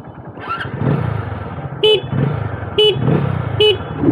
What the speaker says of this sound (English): You want me to honk it?